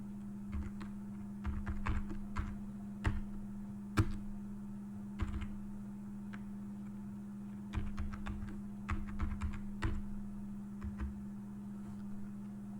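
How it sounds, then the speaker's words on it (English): Steady computer keyboard typing in irregular bursts of keystrokes, close and moderately quiet, over a constant low electrical hum. "Let's type"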